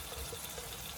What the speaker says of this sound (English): pour, juice and all, your chopped tomatoes into your onions and spices